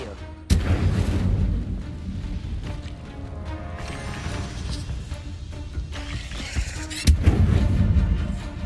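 Incendio, a fire spell in the Hogwarts Legacy video game, erupts with a sudden loud whoosh and roaring burst. The flames crackle and rumble, then a second sharp blast follows near the end.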